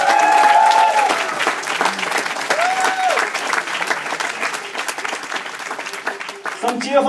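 A crowd at a theatre monologue show claps and cheers for a performer, with sustained applause running under an amplified host's voice calling out names across the whole stretch.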